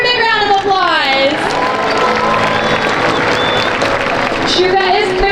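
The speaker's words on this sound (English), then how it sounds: "Can we give her a big round of applause?" Crowd at a SeaWorld San Diego orca show applauding and cheering for a killer whale, broad outdoor stadium applause with a whistling voice and amplified announcer speech layered over it.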